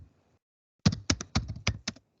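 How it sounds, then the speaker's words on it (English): Quick burst of about six crisp keystrokes on a computer keyboard, close and distinct after a moment of near silence, with no speech over it. "This is my example I'm typing,"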